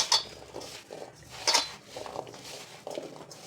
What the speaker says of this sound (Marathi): असं सर्व फोडींना लागेल असं हळद आणि मीठ असं व्यवस्थित मिक्स करून घ्यायचे